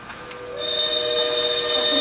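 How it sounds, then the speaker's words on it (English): The midday train sounds a sustained, tonal whistle or horn that swells in partway through and holds steady and loud over a quieter rumble, with no talking. "there's the midday train now."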